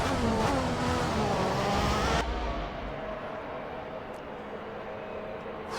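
Ferrari Formula 1 car in the racing game F1 2014 at the Hungarian Grand Prix, its engine a loud, steady high-pitched whine that cuts off abruptly partway through, leaving a quieter, duller engine drone.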